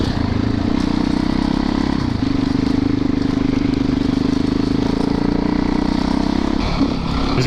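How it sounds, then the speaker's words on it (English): Big-wheel Yamaha YZ dirt bikes ride along a trail, a steady droning engine hum with a revving rise near the end and a gritty background clatter. "There's bikes coming back."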